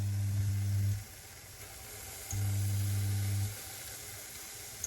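Banana pancake batter frying in a pan gives a steady, close sizzle and hiss, with a low hum that swells for about a second and then again for about a second further on.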